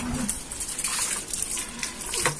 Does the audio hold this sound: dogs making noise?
no